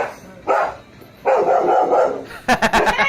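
Several sharp dog barks arrive in a quick burst near the end, following a couple of earlier broader, muffled barks or yelps, with some background rustling and no speech over them.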